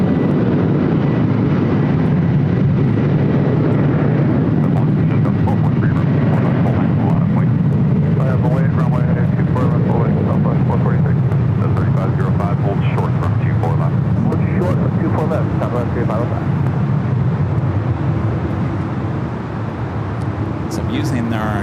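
Jet airliner taking off at LAX, a loud broad roar building and holding for the whole stretch, with radio chatter and voices heard intermittently over it.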